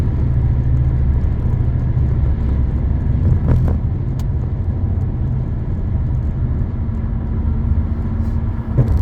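A car drives along a road in Kentucky, its engine and tyre rumble steady and close for the whole stretch, with other traffic around and a couple of brief clicks inside the cabin.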